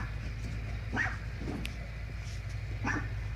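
A dog barks and whimpers outdoors, a few short yelps and whines spaced over a steady low background hum, fairly close.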